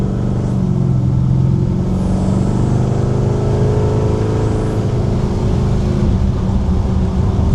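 A classic car on a road test, with an Art Morrison chassis and coilovers, drives under throttle with a loud, continuous engine drone and rumble heard from inside, with no talking.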